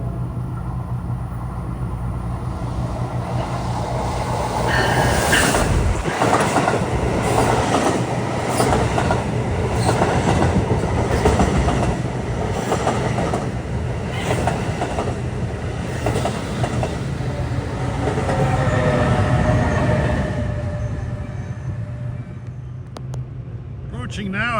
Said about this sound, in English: Train from New York to Trenton arriving at 5:36.